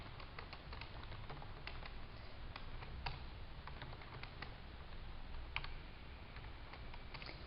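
Python code being typed on a computer keyboard, quiet bursts of light key taps at an irregular pace, with a few louder strikes against a soft background hiss.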